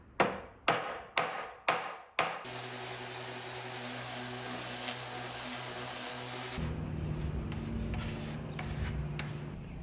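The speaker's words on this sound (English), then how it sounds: "that is an angle grinder with a tile blade on it" Angle grinder fitted with a tile blade cutting wood: several sharp knocks first, then the tool whirs up into a loud, steady high whine, dropping into a rougher, lower grinding tone as the blade bites.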